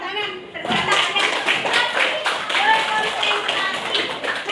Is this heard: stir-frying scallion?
no